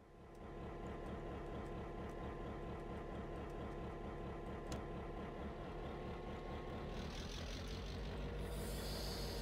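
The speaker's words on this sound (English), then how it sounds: "Yellow GP7. Let's take it out for a spin." Diesel rumble of a yellow GP7 locomotive in the Garry's Mod game, a steady low throbbing engine drone with rhythmic pulsing that holds throughout, with a brighter hiss rising near the end.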